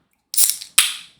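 A sharp hiss-crack of a can tab popping, followed moments later by a second fizzy burst, close and clear with no talking.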